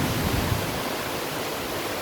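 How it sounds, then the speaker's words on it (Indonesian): Steady broadband rushing of the Luaha Ndroi waterfall in North Nias, constant and fairly loud, with no voices or breaks. "Inilah situasi puncak dari terjun air"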